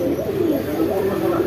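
White Jacobin pigeons in a cage coo softly and steadily at close range, a low warbling murmur that runs throughout under faint background noise.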